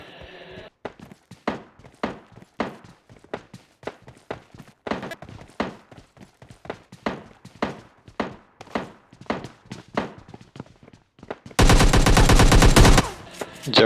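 Rapid shotgun blasts and other gunfire crack out in PUBG Mobile Lite, a long run of sharp, evenly spaced reports ending in a dense burst of continuous fire, with some talk in the background.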